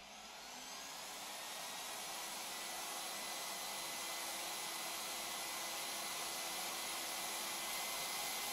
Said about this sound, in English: Pressing the e-drive starts the welding machine.